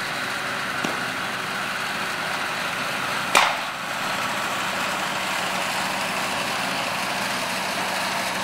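A vintage tractor engine idles and chugs at a 2010 tractor days display, a low steady rumble at moderate distance with a brief sharp clank partway through.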